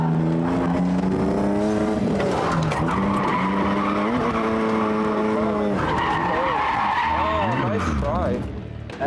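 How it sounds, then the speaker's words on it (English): A car drifting, its tires skidding and squealing in long wavering tones over a strained, revving engine, loud and close throughout. "And here's the drifting section."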